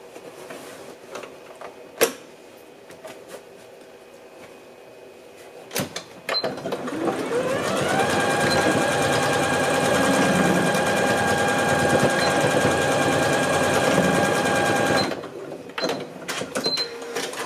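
Sewing machine stitching a hem on fabric shorts runs steadily for several seconds after a few soft handling clicks, a close, loud continuous whir that stops abruptly near the end.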